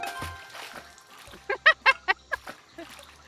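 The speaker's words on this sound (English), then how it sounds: "I'm gonna go chuck that in the water." An object thrown into water in a video game, a short burst of about six quick splashy sloshes in a row, preceded by faint murmuring and quiet clatter.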